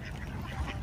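Ducks quack in a short, close burst of raspy calls, heard alone without any talking over them.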